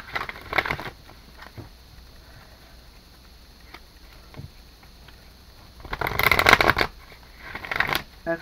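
A deck of Halloween oracle cards is shuffled by hand in quiet, soft riffling bursts, with a brief flurry early on and a louder stretch of shuffling toward the end.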